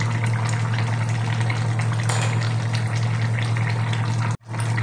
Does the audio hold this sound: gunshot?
no